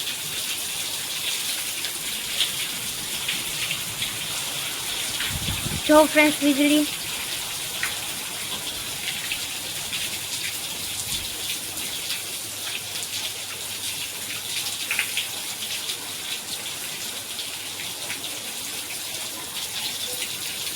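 Steady, dense rush of heavy rain with lightning pours throughout, with a brief voice heard partway through over the constant downpour.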